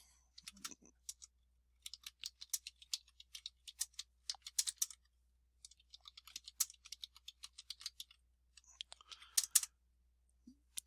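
Fingers typing a short statement on a computer keyboard, heard as quick irregular bursts of crisp key clicks with brief pauses between runs, close and fairly quiet, with no talking.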